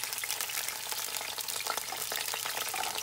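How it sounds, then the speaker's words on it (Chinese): Scallions fry in hot oil in a wok: a dense, loud, continuous sizzle and crackle with no pauses and no voices. "然后呢油热了就把这个葱倒下去"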